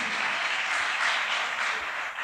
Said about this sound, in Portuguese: Depois você vai aplaudir a Deus, irmãos.